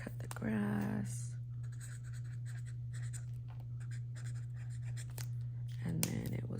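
Pen writing in a Moleskine planner, a soft scratchy scribble running steadily through the clip over a constant low mains hum, with brief bursts of talk at the start and end.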